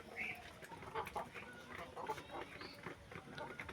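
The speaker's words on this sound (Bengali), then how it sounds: "এই মুরগিগুলো" Chickens on a small laying farm cluck in short, scattered bursts, fairly close and moderately loud over a steady barnyard murmur, with faint human voices in the background.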